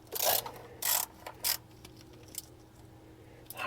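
A ratchet checking valve cover bolts on a 1976 Dodge Club Cab Adventurer, with a few short bursts of metallic clicking and clanks close by, then quieter mechanical ticks.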